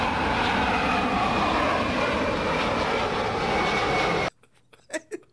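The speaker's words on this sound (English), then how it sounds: "They show a plane flying out, like taking off" A FedEx plane taking off from an airport, its engines roaring loud and steady for about four seconds before cutting off abruptly, followed by a few faint scattered sounds.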